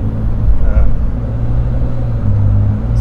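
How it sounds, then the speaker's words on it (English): Cummins diesel truck converted to an Allison transmission rolls into the throttle, a loud, steady low engine rumble building and holding under the cab, with a faint voice in the background. "You want to do a roll into the throttle real quick?"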